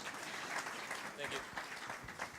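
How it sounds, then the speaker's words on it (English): An audience claps to welcome guest Stéphane onstage at a talk on digital events. The applause is steady and dense throughout, with voices speaking over it. "On peut l'applaudir, allez, pour l'accueillir."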